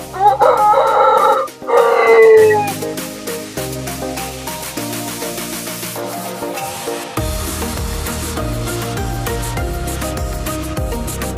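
A large gamecock, a Shamo rooster, crows loudly and close by in the first few seconds, followed by other bird calls and background noise.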